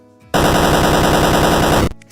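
Explosion sound effect in a Phaser video game, a loud, dense, rapid-fire rattling burst lasting about a second and a half that cuts off abruptly, with no talk over it.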